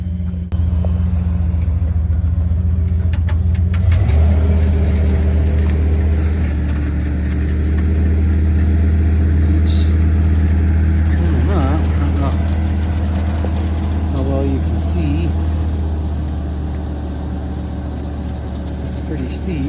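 A vehicle engine running with its idle stepped up while powering a slow winch, a loud steady low rumble that jumps to a stronger drone after a few seconds, with people talking over it.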